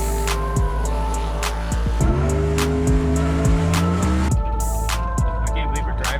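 A car that has had its distributor pulled and worked on for dyno testing drives hard, with a loud, sustained engine roar and rising and falling revs, sharp gear changes and bursts of tire squeal throughout.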